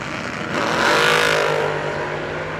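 Drag race cars, including a 27 Roadster, accelerating hard down the strip, a loud rising engine roar that swells to a peak and then holds as the cars pull away, no voices.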